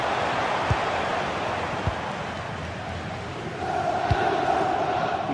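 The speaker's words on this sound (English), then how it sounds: "the crowd is certainly trying to motivate the team to push them forward to get the equaliser" Stadium crowd noise at a video game football match, a steady roaring wash of many voices that swells slightly toward the end, with a few faint thumps and no talk over it.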